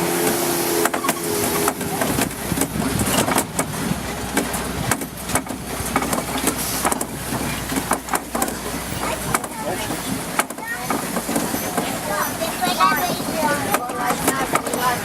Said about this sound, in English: You can barely catch anything with all the bumping going around in this car